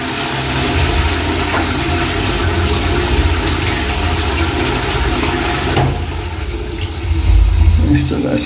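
Water rushes and churns through a clogged sewer pipe during a flushing and camera inspection, a loud, steady wash that briefly dips and then surges again, with voices talking over it.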